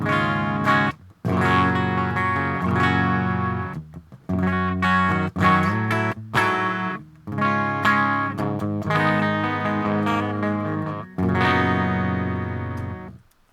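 Clean electric guitar through the clean channel of an Audio Assault Bulldog Super Lead amp sim, playing chords and single notes with some sustain and short pauses between phrases, close and fairly loud, no voices.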